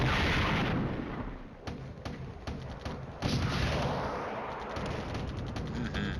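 M109 artillery firing in the Flashpoint Campaign: Red Storm wargame: a rumbling barrage of heavy booms and sharp blasts, several reports spaced about every half second over a constant loud roar, with no talking.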